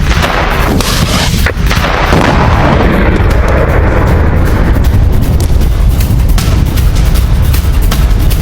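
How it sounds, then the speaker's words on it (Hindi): Dense, continuous barrage of gunfire and explosions during a Pakistani army attack on an Afghan border post, loud booms and rapid cracks overlapping with no pauses. "भागते हुए अफगान सैनिकों पर फायरिंग भी की पाकिस्तान के सैनिकों ने"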